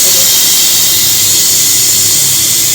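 A pressure cooker on an induction cooker releasing steam, a loud continuous hiss that stays level and close from start to finish, with a faint low hum underneath.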